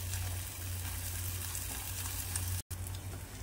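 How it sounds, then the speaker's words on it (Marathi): Masala with ginger garlic paste sizzles in oil in a kadhai, a steady soft hiss over a low hum, broken by one brief dropout. "मसाला चांगला तेल सुटेपर्यंत आपल्याला भाजून घ्यायचा आहे."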